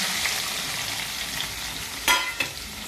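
Chopped tomato pieces for a tomato and peanut chutney fry in a pan, giving a steady, close sizzle throughout with a couple of brief scraping knocks near the end.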